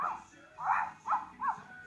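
A small puppy gives four short, high yips spaced about half a second apart, close by and fairly quiet, against a hushed indoor background.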